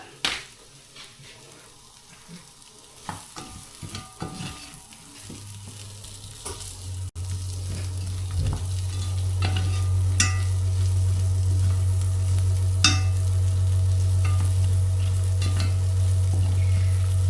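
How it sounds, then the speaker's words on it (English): Onions cooking off in butter in a pan for a lamb's liver, bacon and onion gravy: a steady, loud sizzle builds after a few quiet seconds, with occasional scrapes and clicks of stirring. "So just cook these onions off and add a bit more butter."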